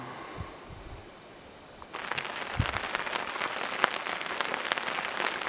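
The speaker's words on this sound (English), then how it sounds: "We have a little rainy day here on East Lake." Rain falls at a lakeside campsite on East Lake, a dense steady patter that starts abruptly after a quieter, breezy opening with a few faint knocks, then holds as a close, even hiss of drops with no talking.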